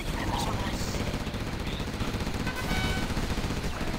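Gatling guns firing in Command & Conquer Generals Zero Hour, a dense continuous rattle of rapid fire with other battle noise that stays steady and fairly loud throughout, with some talking mixed in.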